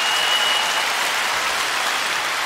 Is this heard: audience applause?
yes